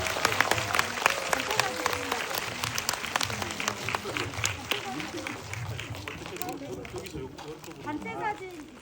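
A cinema audience at a director's Q&A session during the Busan streaming festival bursts into sustained applause and cheering, dense clapping throughout with voices and a host speaking over it.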